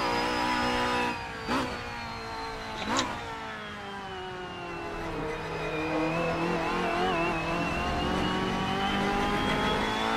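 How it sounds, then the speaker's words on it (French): A Honda Accord MK5 BTTC race car engine on track, droning and revving with rising, climbing harmonics and a couple of sharp gear-change blips, steady and fairly close, with no voices. "le bruit est sympa aussi de cette Honda"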